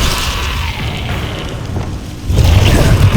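Bombarda spell explosions in the Hogwarts Legacy video game on Xbox Series S, a sustained rumbling blast that swells into a heavier, louder boom toward the end.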